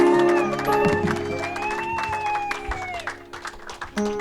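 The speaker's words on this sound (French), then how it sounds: "Quelqu'un peut bien acclamer le Seigneur en assaisonnant des cris de joie à ses acclamations." A church congregation applauding and cheering to praise the Lord, a busy wash of clapping and shouts of joy with a sustained sung or shouted voice rising above, close and fairly loud.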